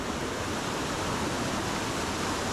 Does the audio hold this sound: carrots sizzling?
no